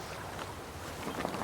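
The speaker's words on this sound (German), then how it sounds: "Wir fahren mit dem Schiff." Ship sailing across water in the Cat Quest 3 video game, a steady washing rush of waves and wind with no clear breaks, moderately loud throughout the short stretch.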